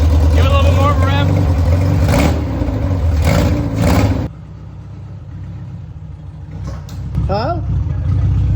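A 1973 VW Bus engine revs in bursts, loud and close, as the throttle is blipped, then drops back to a rough idle, with people talking over it throughout.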